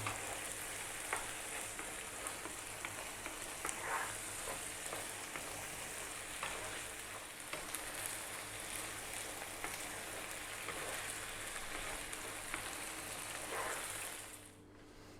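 Tuna macaroni coated in pasta sauce frying in a pan as it is moved around, a continuous dense crackling sizzle with faint scraping that drops away abruptly at the end.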